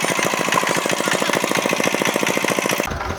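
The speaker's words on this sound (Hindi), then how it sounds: "यहाँ पे मशीन चल रही है ना, जो गन्ना पेरने वाली मशीन है" A sugarcane crushing machine on a roadside cart runs loud and close, a rapid rhythmic mechanical pounding over a constant motor drone, stopping abruptly just before the end amid crowd noise.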